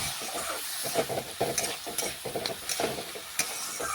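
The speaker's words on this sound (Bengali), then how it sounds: "এটাও ভালোভাবে সবজির সাথে বেশ কিছুক্ষণ মিশিয়ে একটু আমি হালকা ভেজে নিচ্ছি" Soaked moong dal and sago frying with vegetables in a pan: a dense sizzle broken by rhythmic scraping and stirring strokes, close and fairly loud throughout.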